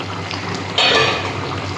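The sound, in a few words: ol and prawn curry boiling in pan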